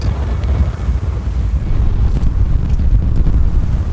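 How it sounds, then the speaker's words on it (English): Strong wind roars and buffets the microphone continuously, a heavy low rumble with gusty surges throughout. "The wind is crazy today"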